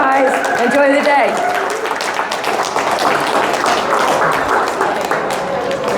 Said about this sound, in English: a big round of applause for Soft Touch